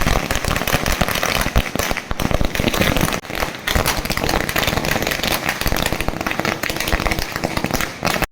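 Firecrackers set off by BJP workers celebrating an election victory outside the taluk office in Gudibande crackle and pop in a dense, loud, continuous barrage with hardly a pause, briefly thinning once midway.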